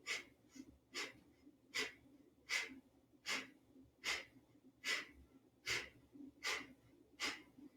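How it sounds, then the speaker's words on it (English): Rhythmic forceful breathing from a yoga breathwork exercise, about ten sharp nasal exhales at a steady pace of roughly one per second, close and clear with no talking. "Take a deep breath in and begin."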